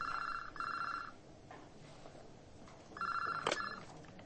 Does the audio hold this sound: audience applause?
no